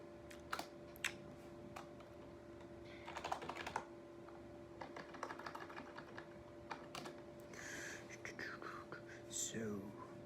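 Computer keyboard typing while coding in Java, soft irregular key clicks in bursts close to the mic, with faint whispered speech and a steady low hum underneath.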